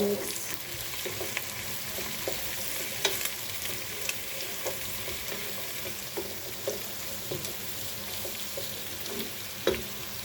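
Spaghetti being mixed and stirred in a hot frying pan with ground black pepper and salt, steady sizzling broken by scattered scraping and clinking of the utensil, close and without speech.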